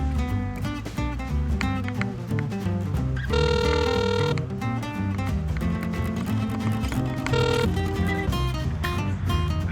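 A telephone line rings during a call transfer to an extension, with bursts of ringing tones over a dense, continuous tonal background heard through the phone, loud and steady with no voices.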